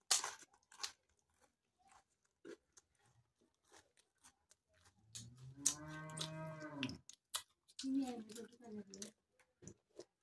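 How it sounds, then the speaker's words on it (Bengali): A cow moos outside, one long drawn-out call in the middle and a shorter one after, heard from a distance over quiet indoor noises while puffed rice and tea are being eaten. "গরু বাইরে ভেবাইতেছে হুস।"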